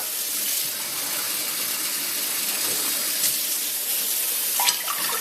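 Water is poured into a cooking pot, about two glasses' worth for a millet pudding, as a steady unbroken splashing stream lasting around five seconds with no talk over it.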